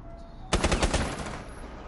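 Machine gun fire from the M12 in Rainbow Six Siege: a sudden loud burst of rapid automatic shots lasting about half a second, then a decaying echo over a steady background hum.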